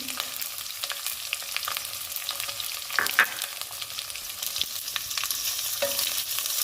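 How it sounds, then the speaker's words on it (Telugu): Green chillies, curry leaves and tomato pieces fry in hot oil, giving a steady close sizzle with crackles and a few louder pops, broken by the scrape of stirring. "ఇవన్నీ ఆయిల్లో వేయించుకున్నాము"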